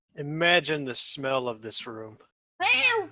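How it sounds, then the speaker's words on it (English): A cat meows from behind a wall in an old house, long wavering cries with a strong tonal harmonic quality that come in separate bursts and overlap a nearby voice speaking. "having all that meowing on the other side of the wall"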